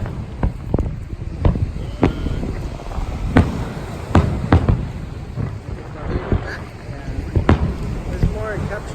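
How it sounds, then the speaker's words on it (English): A 4th of July fireworks display at Redondo Beach: scattered booms and pops burst at irregular intervals, heard from a distance over wind noise and a murmur of voices. "the explosions are up in the air"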